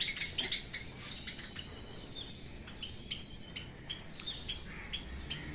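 Caged owl finches, java sparrows and doves, a faint busy chorus of high chirps and tweets with soft rustling and pattering, steady and continuous, with no talk.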